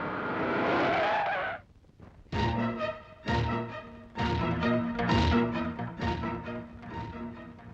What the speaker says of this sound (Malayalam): വണ്ടി നിർത്തിക്കേ.